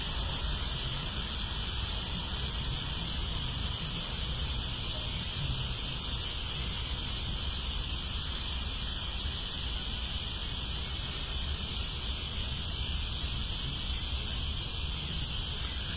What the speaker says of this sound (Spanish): hay un poquito de ruido de grillos. Estoy en el bosque y hay el ruido de fondo, que son los grillos